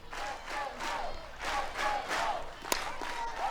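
A stadium crowd at a college softball game between Florida and Florida State swells in cheers and shouts in several rising waves, broad and moderately loud, with a brief sharp crack near the end.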